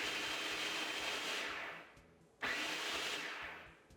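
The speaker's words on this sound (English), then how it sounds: "This time we're going to pulse everything together until the mixture resembles coarse crumbs." A food processor pulses a pie crust mixture of flour and butter pieces into coarse crumbs: two loud whirring bursts, the first fading out before the second starts abruptly, with no talk.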